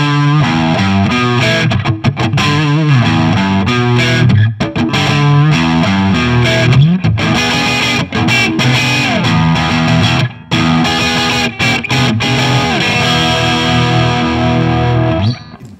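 Harley Benton electric guitar on its middle pickup position runs through a distorted amp, playing loud, sustained chords and lead lines with brief breaks between phrases.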